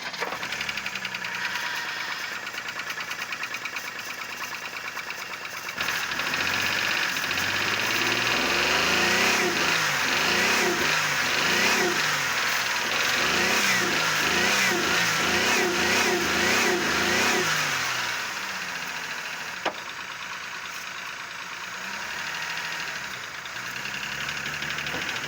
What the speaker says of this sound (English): I can hear that the engine's still there